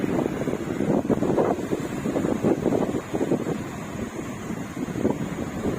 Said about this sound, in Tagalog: Kalakas po ng hangin ngayon.